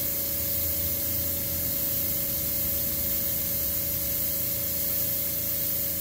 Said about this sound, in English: Just getting used to the airbrush.